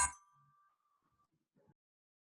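A phone rings once with an incoming call, a short bright chime that fades into a faint sustained tone, followed by quiet murmuring in the background.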